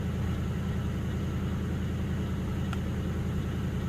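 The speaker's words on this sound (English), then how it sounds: "I've let it run about a minute here, and that engine's built a little bit of heat." A 1978 Oldsmobile Delta 88 V8 idles steadily after a cold start, settling from fast idle with a warm engine, giving a constant low rumble close by with no voices.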